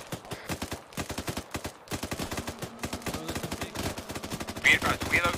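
Rapid gunfire crackles in a milsim game, dense repeated shots and bursts fired steadily from close by, with faint voices in the background.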